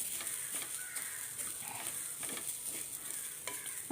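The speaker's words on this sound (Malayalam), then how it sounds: "തേങ്ങയൊക്കെ ഒന്ന് മൂത്ത് വരട്ട് അതുവരെ നന്നായിട്ട് ഇളക്കി കൊടുക്കാം" Grated coconut roasting in a pan for a ladies finger (okra) tamarind curry, stirred continuously with a steady dry sizzle and scraping, close and even throughout.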